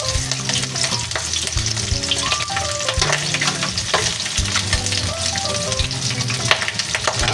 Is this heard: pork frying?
yes